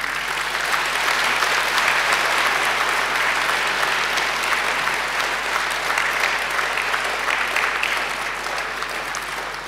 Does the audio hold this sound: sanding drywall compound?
no